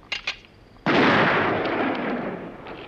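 A single loud Winchester .300 Magnum rifle shot firing a 180-grain round, a sudden heavy blast that rolls on and slowly decays, preceded by a couple of faint clicks.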